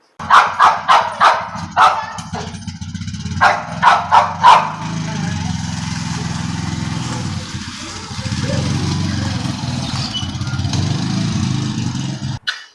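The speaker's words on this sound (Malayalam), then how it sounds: "അപ്പൊ കണ്ടോണം അവൻ ചാടി എഴുന്നേറ്റിട്ട് രണ്ട് കൊര കുരയ്ക്കുന്നത്" A dog barks in a quick burst of loud, close yelps, pauses, then barks again in a second cluster before a steady engine-like hum and low talk take over.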